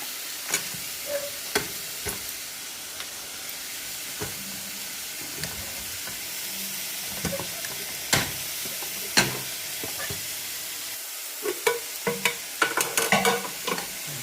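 Onion frying to a deep brown in a pan for palak chana dal, with a spatula scraping and clacking at irregular intervals over a soft, steady sizzle.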